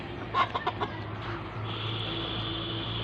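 Domestic native chickens on a small farm give a few short clucks in the first second, then fall silent over a steady background hum.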